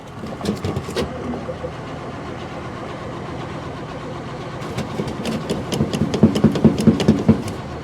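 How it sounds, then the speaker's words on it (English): A 1983 Mercedes 240D diesel engine struggles to start, with faint grinding cranking that builds into a rhythmic burst of repeated chugging pulses near the end, recorded close by. "it's trying to crank"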